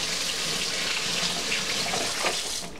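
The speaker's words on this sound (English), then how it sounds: "and I wash my hands." Tap water runs steadily into a kitchen sink while hands are washed under it after marinating pork, a close, continuous splashing hiss with no voices.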